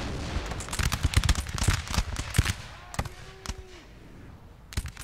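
Musket volleys in the battle game Napoleon: Total War crackle in rapid, ragged bursts of sharp reports, loud and overlapping at first, then thinning out to scattered shots with a brief whistling tone in between.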